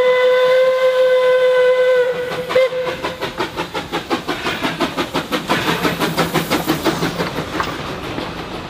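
The Puffing Billy tourist steam train's whistle blows steadily for about two seconds, then rhythmic chuffing and clattering wheels build as the train rolls past, close and loud.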